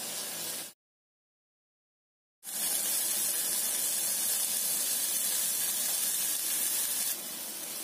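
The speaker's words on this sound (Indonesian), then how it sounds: "Ini teflon yang udah panas. Aku akan taruh sini." Tofu satay skewers sizzle on a hot Teflon pan in a steady, close, loud broadband hiss that starts after a short silent gap and continues unbroken, easing slightly near the end.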